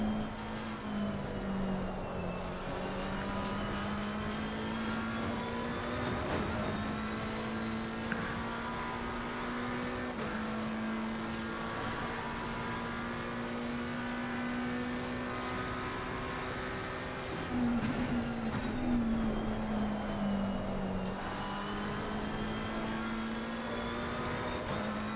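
A McLaren 720S GT3 race car in Assetto Corsa Competizione, its engine droning steadily and shifting pitch as revs rise and fall, heard continuously from the cockpit with no talking.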